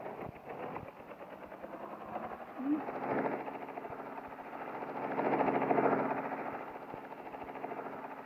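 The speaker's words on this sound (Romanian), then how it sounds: "Nu știu ce caută elicopterul acolo. Care zboară." A low, steady engine drone with a rapid rotor-like throb of a helicopter in the video game Simple Sandbox 2 hums at a distance, swelling slightly and easing off again.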